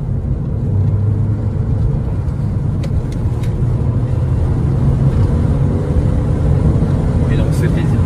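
A Mercedes A-Class A160 accelerating in sport mode, its engine a steady, loud low rumble with rising tone, heard from inside the cabin throughout.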